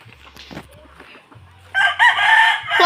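Chickens cluck softly at a chicken farm, then a rooster crows loudly and close by, its call rising in a strong, drawn-out cry through the last second.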